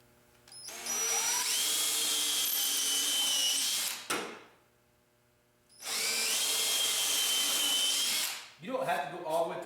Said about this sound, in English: Get my drill.